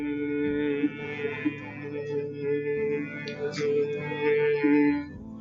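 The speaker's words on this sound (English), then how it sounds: "This is the sound of a humming bee." During a yoga breathing exercise, a humming bee breath exhale sustains as a low, steady, buzzing hum for several seconds with a slight waver in pitch, fairly close and moderately quiet.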